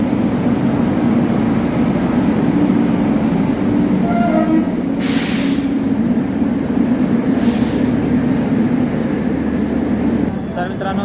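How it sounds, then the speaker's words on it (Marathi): A Tirupati express train stands at a platform at Nanded station with a steady low rumble. Two short bright hissing bursts, likely air brakes or a horn, cut through, and voices murmur under the din. "प्लॅटफॉर्म नंबर दोनवरती तिरुपती इसारा एक्सप्रेस ट्रेन आलेली आहे"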